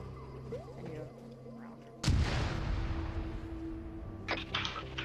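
In a military video game, an RPG launches at a tank: a single loud, sharp blast followed by a long rumbling roar that slowly fades, with muffled voices nearby.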